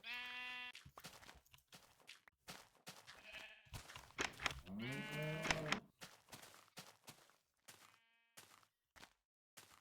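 Sheep in the Minecraft video game bleat several times, with overlapping wavering calls spread across a quiet stretch and some faint clicks between them.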